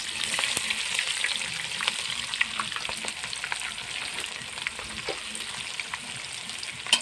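Onions frying in a pan for a chicken and taro dish, with a steady close sizzle broken by occasional stirring clicks and scrapes.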